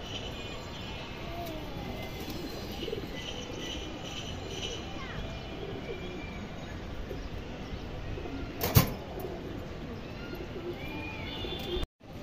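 Female pigeons coo softly and steadily in a loft, a low continuous murmur with occasional chirps and one brief flutter near the end, heard at moderate distance with no talking.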